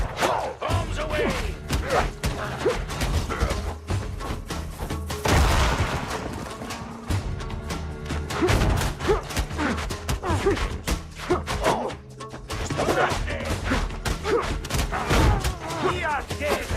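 Bombs and cannon fire burst repeatedly during a naval battle in the video game Windrose, with loud thuds and crashes in dense, continuous rapid fire throughout, mixed with game music and occasional voices.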